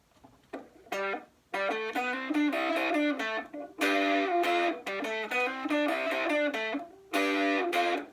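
Distorted electric guitar plays chunky riffs in bursts with short gaps between phrases, loud and gritty with rich overtones.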